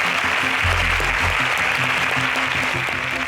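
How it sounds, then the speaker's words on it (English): Audience applause fills a quiz contest studio, a steady broadband wash of clapping that holds for the whole stretch with low musical or voice tones underneath. "A round of applause"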